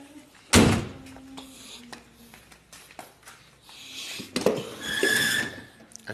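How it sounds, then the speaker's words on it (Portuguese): A car trunk is opened, likely on a Volkswagen Beetle (Fusca), with a sharp latch thunk followed by quieter clunks and rustling of items being handled, then a louder rattling burst near the end. "Vamos abrir lá o porta-mala."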